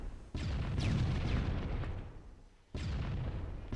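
Two heavy, booming rocket explosions in Halo, each a sudden loud blast with a rumbling tail, the second arriving after a short pause.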